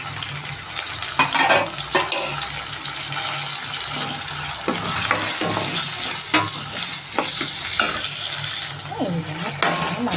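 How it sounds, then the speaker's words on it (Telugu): Tomato and turmeric frying in a pan for a bitter gourd dish, a steady close sizzle with frequent stirring scrapes and knocks of a spoon against the pan. "ఈ విధంగా మంచి ఫ్రై కావాలి"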